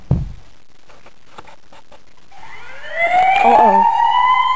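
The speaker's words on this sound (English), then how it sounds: "The alarm." An alarm siren in the video game Webkinz starts partway through, a loud rising wail that swells and holds, following a run of soft ticking beats.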